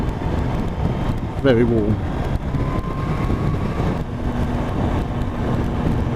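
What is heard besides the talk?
Kawasaki H2 SX SE motorcycle engine while riding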